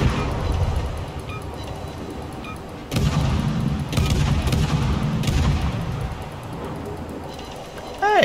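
Warship cannons booming in World of Warships, repeated heavy artillery blasts over a constant low engine and sea rumble, several salvos spread through the stretch, loud and close in game audio.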